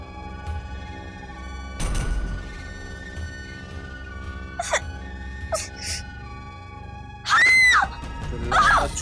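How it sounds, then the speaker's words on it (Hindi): A girl in a TV drama screams in a forest in two loud, sharp bursts near the end, after quieter gasps and whimpering sounds over a low background hum. "छोरी चिल्ला मत"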